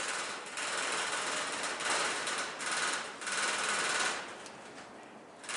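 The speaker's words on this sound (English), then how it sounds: "Poor old lawnmower." Lawnmower engine running with a rough, pulsing drone that rises and dips slightly, fairly faint, no voices.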